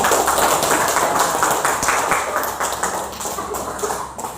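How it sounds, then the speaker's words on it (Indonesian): Students in a high school classroom clapping in a burst of applause, dense rapid claps that slowly fade over a few seconds. "Pak kasih aplaus dulu Pak"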